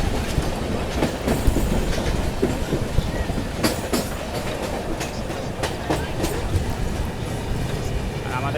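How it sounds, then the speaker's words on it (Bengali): A long-distance passenger train pulls into Barrackpore railway station, rumbling steadily with rhythmic clickety-clack of wheels over rail joints and sharp metallic knocks, loud and close from on board, with voices murmuring underneath. "আমাদের ট্রেন ঢুকছে এখন ব্যারাকপুর রেলওয়ে স্টেশনে।"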